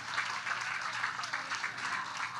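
An audience claps and cheers at an in-person foundation gala, steady applause that fills the room without a break.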